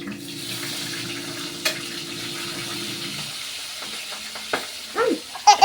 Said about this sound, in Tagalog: Nagagalit yung mantika. Hirap magprito ng mantika, guys.